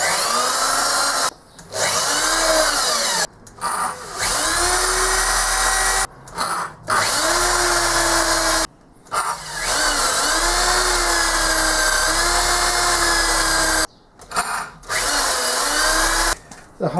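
Power drill boring pilot holes for M5 bolts in a lathe tailstock base, a loud steady whine running in several long bursts with short pauses between, the motor pitch sagging and recovering under load.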